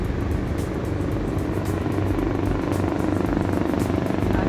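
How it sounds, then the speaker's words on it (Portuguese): A helicopter drones overhead above a beach, a steady loud rotor rumble with a rhythmic beating that holds constant throughout, with no talking. "apareceu helicóptero"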